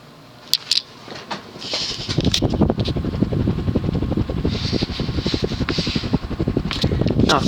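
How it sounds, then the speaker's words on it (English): An Evergo 52-inch spinner ceiling fan from about 1982, built around a repurposed industrial motor, spins up to high speed with a steady rhythmic whooshing and a fast mechanical ticking, with a couple of faint clicks at the start. "See, this is kind of your average high speed for a 52-inch fan."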